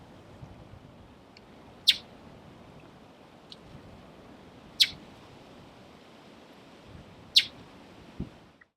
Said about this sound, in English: here's one of the resident mockingbirds that lives on the golf course